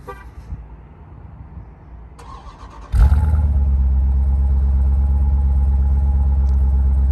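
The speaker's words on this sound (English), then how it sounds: "so pressing this twice will start the Jeep." A 2021 Jeep Grand Cherokee SRT fires up by remote start after a few seconds of quiet, its engine catching with a sudden loud burst, then settling into a steady, deep, close idle rumble that holds to the end.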